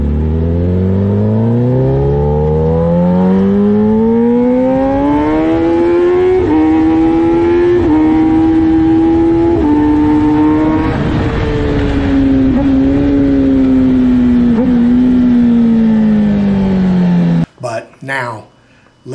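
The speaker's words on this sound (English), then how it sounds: "showing just exactly how smooth and controllable the throttle is on that bike" A 2021 Kawasaki ZX-10R 1000cc sport motorcycle revs loud and close under smooth throttle control. The engine pitch climbs steadily, holds high, then eases back down over about seventeen seconds before cutting off abruptly.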